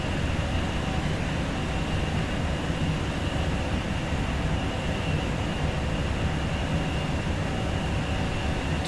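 Simulated train in Train Sim World 3 running at speed, a steady loud rumble of wheels on rail and motor noise that holds evenly throughout with no voices.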